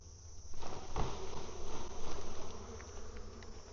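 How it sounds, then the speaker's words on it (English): Honey bees buzz in a dense, continuous drone as frames of bees are tossed into a hive, close and steady, with a few soft knocks and bumps beneath the hum. "I'm gonna toss these couple frames of bees in here."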